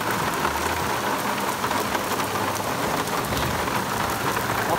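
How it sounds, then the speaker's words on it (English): Heavy rain pours down steadily on a golf course during a storm, a dense even roar of falling water with no break, close and loud throughout. "Do you like a good rainstorm?"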